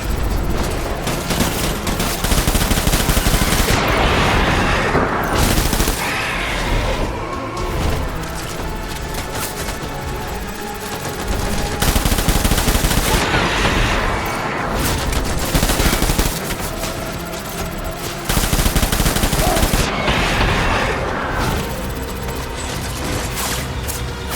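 Sustained gunfire bursts and volleys in the video game Death Stranding, loud and dense, coming in waves with brief lulls between heavy barrages.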